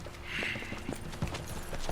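Horse hooves clip-clopping in Red Dead Redemption 2, a steady rhythm of close, soft thuds over a rushing background with a faint hint of a whinny.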